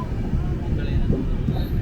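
A passenger train moves slowly near Palakkad, giving a steady low rumble and rattle of the carriages that stays continuous and fairly loud for the whole short stretch.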